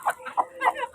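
Domestic ducks and chickens cluck in a quick run of short, close calls while being fed outdoors.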